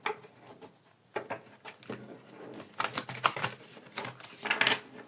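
Tarot cards being cut and shuffled by hand: a close series of soft, irregular flicks and taps, growing busier toward the end, with no voice.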